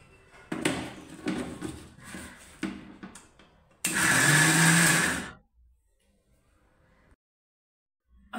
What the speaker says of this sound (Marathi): आता मिक्सरला लावून थोडंसं जाडसर वाटून घेऊया।